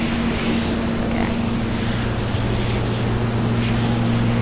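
A propeller airplane in the Stormworks video game drones with a steady, loud engine hum and whirring prop tone that holds unbroken throughout.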